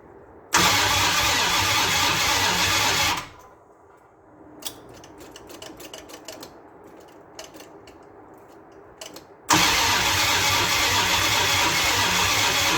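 Classic Mopar 400 cubic inch V8 with electronic ignition cranking, loud and close: a few seconds of steady starter grinding, a pause with faint clicks, then another long bout of cranking.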